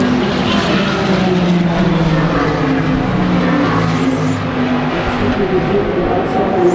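Race cars at the Daytona 24-hour race roar steadily around the pit lane, a loud continuous engine drone with layered motor tones and crowd ambience, no pauses across the stretch.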